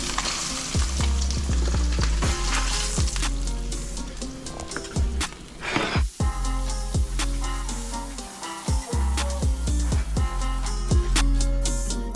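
Fish sizzle and fry in a pan in a continuous loud crackle, with clinks and scrapes of utensils and a brief break halfway through as the pieces are moved.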